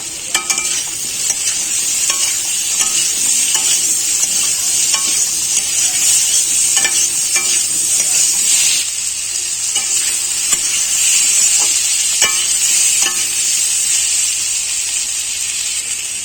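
Raw mango pieces sizzle in hot oil in a pan while being stirred for a Bengali rohu fish sour curry with pumpkin, a loud, steady frying hiss broken by scraping spatula strokes throughout.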